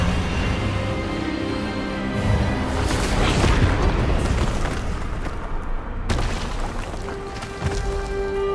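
A spell cast in the Hogwarts Legacy video game during a wizard duel, heard as a loud, sustained booming blast that swells and rolls across several seconds over a dense, continuous wash of game sound.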